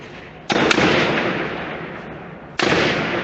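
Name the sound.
automatic weapon gunfire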